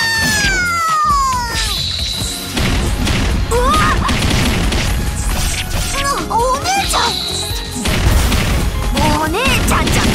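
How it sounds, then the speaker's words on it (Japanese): Fireworks bursts in the anime brawler game Senran Kagura Estival Versus, loud cracks and booms layered over busy game music with chirping sound effects and character voices throughout. "あちこちで花火の音がしてんだから"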